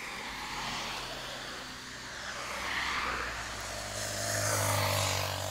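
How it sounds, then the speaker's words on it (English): Cars whooshing past on a road just outside Liberia, Costa Rica, in broad swells that rise and fade one after another, tire and engine noise rolling by at moderate distance with no talk. "Cars just whip through here too"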